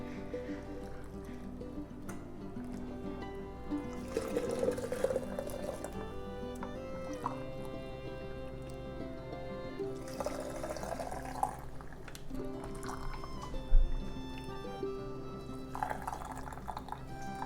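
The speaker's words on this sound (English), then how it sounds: "we're gonna go ahead and start scooping this into our jars, our hot jars" Hot bone broth scooped into hot canning jars for pressure canning makes liquid pouring and dripping sounds in two bursts, with a steady tonal background underneath.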